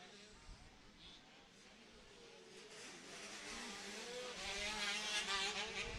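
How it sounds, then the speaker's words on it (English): Motocross bikes, one four-stroke and one two-stroke, race past at the 2017 Cal Classic, a steady engine roar that swells louder toward the end, with faint rising and falling pitch from distant machines. "You can hear the difference in those two engines."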